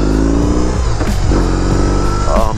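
A BMW R18 motorcycle engine revs loudly up close on a first ride, its deep, throbbing exhaust rising and falling in quick bursts throughout.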